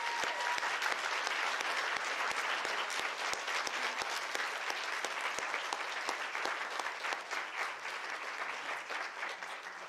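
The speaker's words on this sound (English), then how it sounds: "Let's give them a big round of applause" A school chapel audience applauds honor roll students at an awards ceremony, steady clapping from many hands with a few sharper individual claps standing out, fading slightly near the end.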